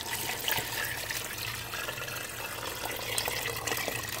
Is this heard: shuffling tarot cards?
no